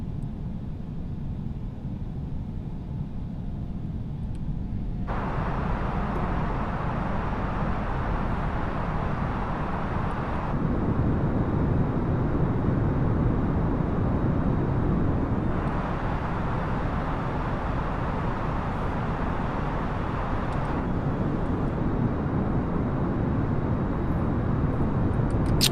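Steady broadband cabin roar of an Airbus A320neo in flight in a flight simulator, with smooth jet-engine and airflow noise that shifts in level every few seconds and no speech.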